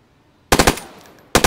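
Rapid automatic gunfire from the video game DayZ comes in two loud, close bursts of three or four shots each, with a short decaying tail between them. No one speaks.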